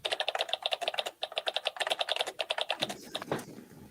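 Rapid typing on a computer keyboard, a dense run of close, crisp key clicks with brief pauses, ending in a few louder, scattered strokes, with no voices.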